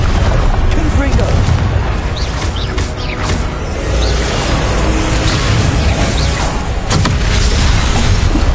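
Spell combat in Hogwarts Legacy on PS5 with repeated Confringo explosive blasts, loud booms and crackling bursts layered over a constant dense battle roar, with a voice speaking through the din.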